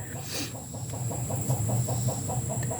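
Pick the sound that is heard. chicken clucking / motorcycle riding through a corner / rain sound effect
chicken clucking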